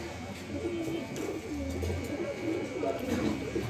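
A pair of pigeons, offered for sale as a running pair, coo in repeated low, soft, rolling phrases that continue steadily over a dense background of other birds and faint murmuring.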